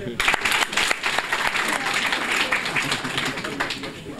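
Applause at a school equipment handover ceremony, brisk clapping from a gathered audience with a few sharp individual claps standing out, loud and close, over a brief stretch.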